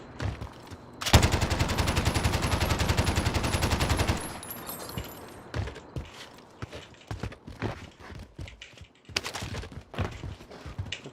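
An RPD machine gun in Warzone fires one sustained rapid burst of dense, loud automatic shots lasting about three seconds, followed by scattered single shots and footstep-like thuds and clatter.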